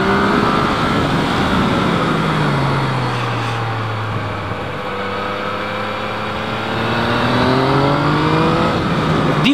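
A Yamaha MT-09 motorcycle accelerates hard, its engine note climbing and shifting through rising harmonic sweeps, loud and close throughout with no talking.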